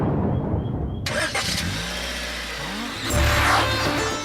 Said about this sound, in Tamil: வண்டி ஸ்டார்ட் பண்ணுங்க.